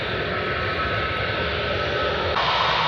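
A Wizz Air passenger jet taking off at Katowice Airport produces a loud, steady jet-engine roar heard close by, with a slight rise in intensity near the end.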